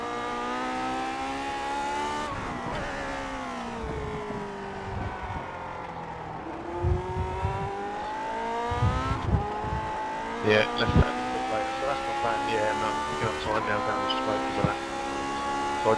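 A race car engine drones and revs, held in second gear through a corner on the Daytona road course in a racing video game, pitch sweeping up and down with gear-shift dips and a voice talking over it.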